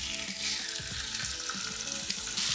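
Seasoned pork pieces drop into hot oil for a tray bake and sizzle with a loud, bright, continuous crackle, with faint clinks of cookware underneath.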